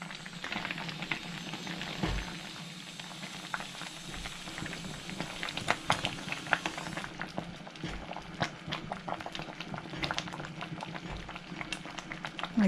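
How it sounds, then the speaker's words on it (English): Homemade green tomato mincemeat bubbles and simmers in a pot on a hot stovetop burner, a steady dense crackle of popping bubbles with occasional louder splutters, close and continuous throughout. "get it back on that hot burner, and I'm going to let this cook for, about 15 minutes"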